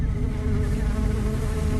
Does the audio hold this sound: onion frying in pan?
no